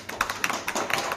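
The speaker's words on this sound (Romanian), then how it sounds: "Să o aplaudăm." Visitors at an art exhibition opening applaud an artist, a small group clapping close by in a quick, fairly even patter of individual hand claps with no voices.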